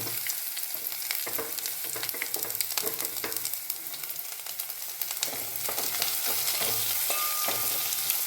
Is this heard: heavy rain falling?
no